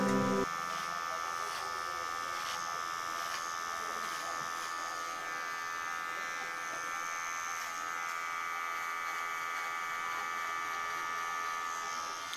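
Electric hair clipper cutting hair for a skin fade on a man, a steady close buzzing drone that holds evenly from just after the start to the end, with no talk over it.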